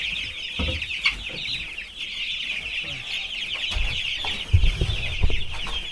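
Chickens crowding around turbo feeders in a coop, a dense chorus of clucking and murmuring hens close by, with scattered scratches and thumps on the feeders and boards.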